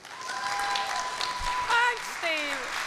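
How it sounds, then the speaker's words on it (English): A conference audience claps for a speaker being introduced, an even spread of applause at moderate level while music-like tones and a voice sound over it. "Can I have a huge round of applause for Linda Nyberg?"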